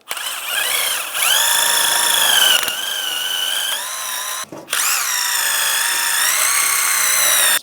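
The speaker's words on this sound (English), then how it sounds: "Use a wire brush." A power wire brush works on a rear brake caliper bracket from a 2004-2010 BMW X3, whining loudly and steadily with pitch shifts as it loads against the metal, with one short pause partway through.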